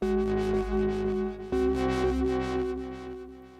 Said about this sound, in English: Now you're hearing the delay effect working.